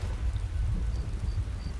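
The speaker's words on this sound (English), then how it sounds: "the rain is letting up" Steady rain in the game Skyrim makes a constant hiss over a low rumbling wash, even and continuous throughout with no voices.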